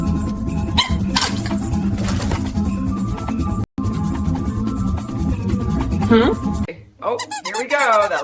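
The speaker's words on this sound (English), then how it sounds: "Oh no, buddy, don't squeak it again." A dog chomps on a squeaky toy ball, letting out a brief squeak near the end amid steady background music and a person talking.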